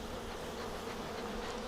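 Bees buzz in a steady, dense drone around an open beehive frame during a hive inspection, continuous and close with no pauses or voices.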